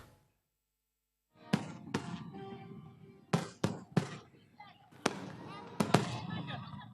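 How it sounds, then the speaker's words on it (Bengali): Fireworks burst over Hatirjheel lake in Dhaka at midnight for Victory Day, a run of sharp loud cracks and booms in irregular clusters after a quiet start, with crowd noise rumbling beneath. "রক্তে লাল আতশবাজি আর সবুজের ঝলকানিতে মধ্যরাতের অন্ধকার দূর করে উকি দেয় বিজয়ের প্রথম প্রহর।"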